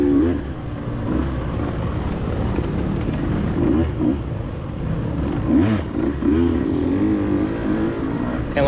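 Two-stroke dirt bikes race at a track, their engines droning loud and near with rising and falling revs that hold steady under the wind rush.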